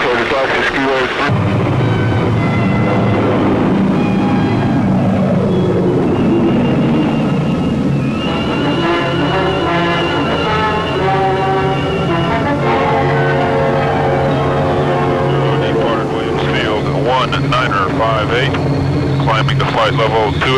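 A Navy ski-equipped aircraft taxis on an Antarctic skiway, its engines droning loudly and steadily with shifting tonal whines rising and falling, while radio chatter and voices sound over the cabin noise.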